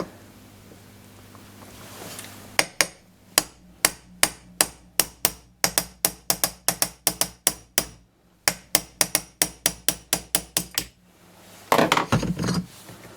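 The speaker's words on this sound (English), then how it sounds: "you can see just a little dinky hammer there and just gentle taps so you don't do any damage" A small hammer taps a part out of an assembly in a steady run of sharp metallic knocks, close and evenly spaced, with a short pause midway and a brief scraping rustle at the end.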